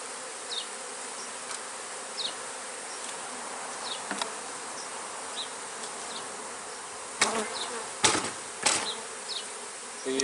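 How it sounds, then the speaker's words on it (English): Honey bees buzzing steadily around an open hive while a package colony is installed, a dense close hum with occasional louder passes and a few knocks and clicks near the end. "We'll put a little smoke, run them down in the comb a little bit."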